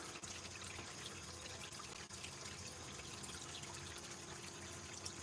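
Running water flowing through a gold prospecting sluice, a faint, steady broadband rush with no breaks and no voices.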